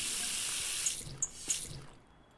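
A tap filling a pot with water in Cooking Simulator, a steady hiss of running water that fades out near the end, with a few soft clinks, heard alone.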